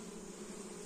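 Honey bees hum calmly at a hive in a combined nucleus colony, a steady, even drone that is close and continuous with no voices.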